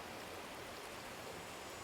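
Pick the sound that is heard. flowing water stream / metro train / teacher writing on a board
flowing water stream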